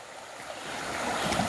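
A rain-swollen stream in flood rushes beside a rural bridge, a steady broad wash of turbulent water that grows slightly louder, close and continuous, with no voices.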